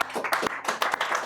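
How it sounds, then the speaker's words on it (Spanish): A church congregation claps together during a Sunday service, a brief burst of dense, irregular hand claps that is fairly close and fills just over a second. "¿Por qué no una ofrenda de palmas a Cristo el día de hoy?"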